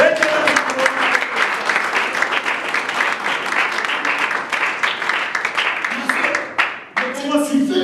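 Church congregation applauding steadily throughout, a dense continuous clapping with a brief dip near the end before it swells again.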